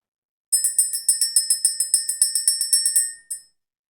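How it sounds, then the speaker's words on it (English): A small bright bell rings rapidly in a quick run of about twenty even strikes, then pauses, then gives one last ring, clear and close with no talk. "We're going to go ahead and ring the bell."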